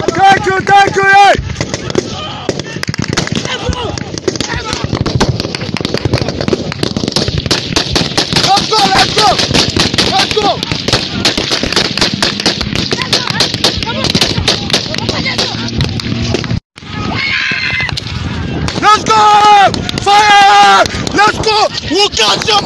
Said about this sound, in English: Fire, Patrick.